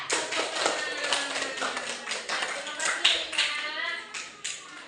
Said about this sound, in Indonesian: tepuk tangan dulu buat Winda